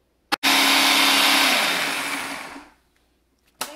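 A blender whirs loudly as it mixes a fruit roll-up mixture, a steady high-pitched roar that winds down and stops, with a short knock just before it starts and another after it ends.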